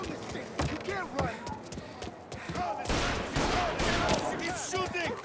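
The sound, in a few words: gunfire in Mafia Definitive Edition video game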